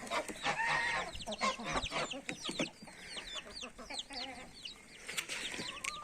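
Chickens cluck and squawk repeatedly at close range in a village on a cold day, a busy overlapping chorus of short calls with some louder cackles.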